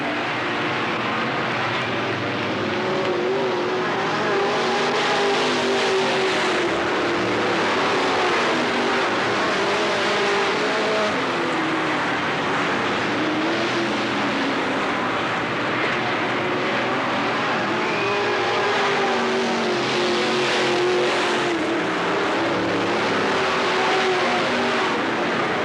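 Race cars roar continuously around Cottage Grove Speedway during a 1991 event, engine noise loud and sustained with shifting pitch as the cars lap, no voices heard over it.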